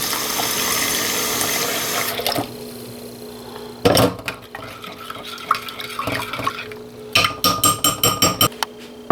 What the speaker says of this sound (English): I gotta get me some water put in here.